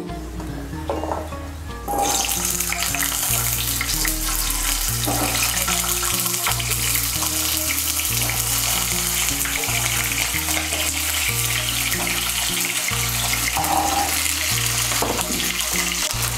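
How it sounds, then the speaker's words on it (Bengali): Small new potatoes frying in hot white oil in a kadai give a loud, continuous sizzle that bursts in after a brief quieter moment and holds steady throughout. "তেলটা গরম হয়ে গিয়েছে, এর মধ্যে আলুগুলো ভেজে নিচ্ছি।"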